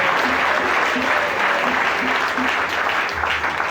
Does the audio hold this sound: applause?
yes